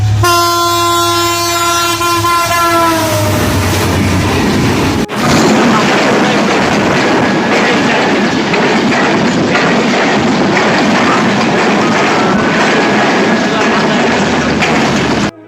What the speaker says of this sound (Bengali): দেখছেন আর একটা ট্রেন চলে আসছে